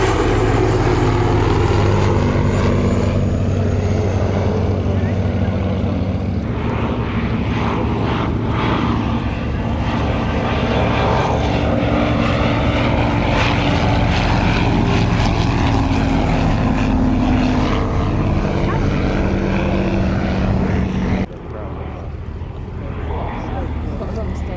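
Propeller engine drone of a Bristol F2B biplane flying at the Shuttleworth airshow, a steady loud rumbling pass under a commentator's voice before cutting off near the end.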